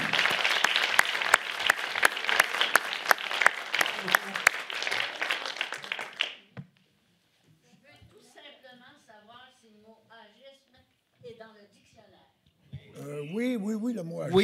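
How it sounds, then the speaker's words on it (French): Audience applause following a panel discussion, loud and sustained for about six seconds with dense claps, then stopping abruptly as people begin talking. "on doit une bonne main d'applaudissement à M."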